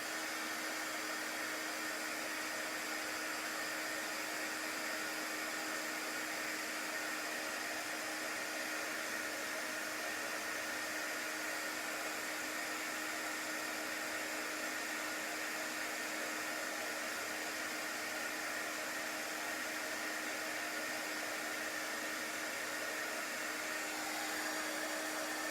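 A hair dryer blows continuously to dry a coat of chalk paste on a craft tag, a steady whooshing hum with a constant motor whine that holds unchanged throughout, close and even, with no speech.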